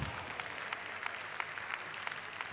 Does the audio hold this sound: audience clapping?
yes